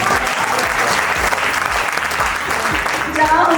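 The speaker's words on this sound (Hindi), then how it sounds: "तालियां बजाइए।" At an awards show and partners meet, an audience applauds loudly and continuously, dense clapping with rhythmic music thumping underneath throughout.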